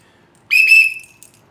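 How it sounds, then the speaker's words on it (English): A cheap metal-style survival whistle gives one loud, shrill blast lasting about half a second, then trails off quickly, heard up close with no talking. "either way, both of the whistles work good. This one has a lot beefier tone to it."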